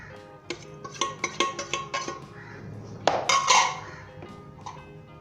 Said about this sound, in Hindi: उसके बाद बनाना शामिल करेंगे इसके अंदर, मिक्स कर लें।